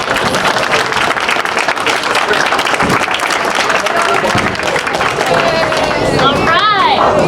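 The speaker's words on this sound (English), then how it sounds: "Round of applause for all of our parents." A crowd at a high school boys' varsity senior night game applauds the players' parents with scattered clapping and cheering, mixed with loud chatter and a whistle-like tone toward the end; people talk throughout.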